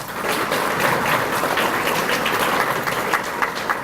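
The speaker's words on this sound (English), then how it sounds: "Give her a round of applause, please" Banquet audience at a memorial scholarship event applauds a scholarship winner, dense steady clapping that fills the whole moment at close, even loudness.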